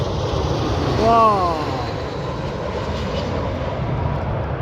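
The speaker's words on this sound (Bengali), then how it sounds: "এটা এখন নামবে আমাদের মাথার উপর দিয়ে সে ল্যান্ডিং করতেছে" Airliner passing low overhead on landing approach at Washington DC international airport, a loud, steady engine roar with a brief rising whine, heard close outdoors.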